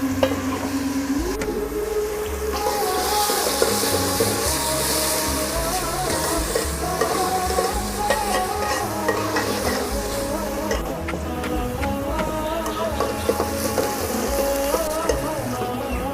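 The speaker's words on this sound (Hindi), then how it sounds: "ये मैंने प्याज ब्राउन होने के लिए रख दिए हैं, साथ साथ ये ब्राउन होते हैं।" Chopped onions browning in hot cooking oil for kadhi pakora, a loud steady sizzle and crackle up close that runs unbroken throughout, with occasional stirring noises.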